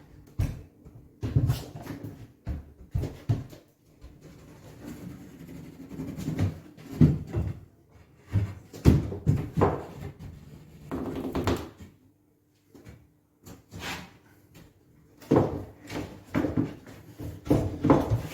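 Heavy reinforced door block being handled and fitted while a stairwell is converted, close and fairly loud, with repeated thuds, knocks and wooden bumps in irregular bursts separated by short pauses.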